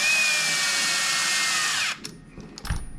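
A power tool whirs steadily as it drives screws into RC truck chassis links, running close and loud for about two seconds before stopping, followed by a few small clicks and handling knocks.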